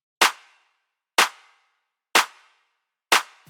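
Layered centre, left and right clap drum samples played together in a music production, hitting four times at a steady one-second rhythm, each a crisp, wide snap with a brief tail, isolated and loud.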